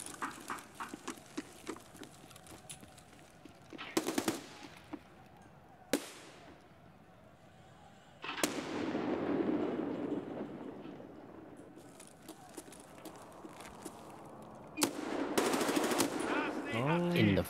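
Automatic gunfire from a sniper tower in a shooter game arena, in sharp loud bursts at irregular intervals with rapid rattling runs between them, over a steady game background.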